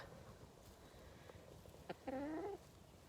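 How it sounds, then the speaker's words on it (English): A hen on a small homestead gives a short, faint clucking call near the end, after a couple of brief knocks against a quiet outdoor background. "Here's my chickens."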